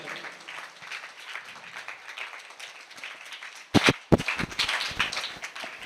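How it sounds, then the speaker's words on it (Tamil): A church congregation claps hands in a steady crowd patter that swells louder near the end, with a few sharp, close claps standing out. "சத்தமா கைத்தட்டுங்க, சத்தமா கைத்தட்டுங்க."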